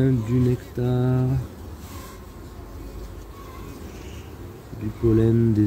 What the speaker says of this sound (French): On a des abeilles qui sont calmes.